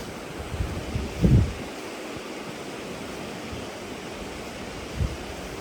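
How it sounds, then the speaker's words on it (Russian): A river rushing in winter near Sochi, a steady broadband roar of flowing water heard alone, with a couple of brief low thumps early and near the end. "Шум реки только слышно."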